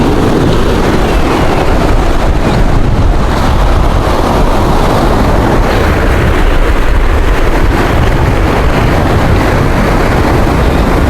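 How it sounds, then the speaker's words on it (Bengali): Big sea waves crash onto a rocky stretch of Cox's Bazar beach at Patuatek. A loud, continuous roar of surf mixes with heavy wind buffeting the microphone, with no talking. "অনেক বড় বড় ঢেউ কিন্তু এখানে আসতেছে"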